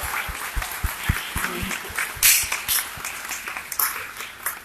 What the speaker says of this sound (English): Would you please give a big round of applause for all the individual groups and the 3 squads?